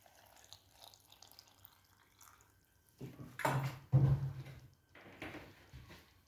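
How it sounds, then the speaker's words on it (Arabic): Water poured into a jar of peppers being pickled, a short splashing pour of about two seconds that rises from quiet room tone and then tapers off, with a faint trickle afterwards. "نزيد الماء"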